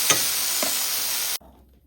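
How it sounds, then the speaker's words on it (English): Vegetables fry in a frying pan with oil and taco seasoning: cucumbers, tomatoes, onions, mushrooms and carrots. A loud, close sizzle carries two stirring scrapes, then cuts off abruptly into near silence. "They're fried up. Same frying pan I'm using to make the chicken."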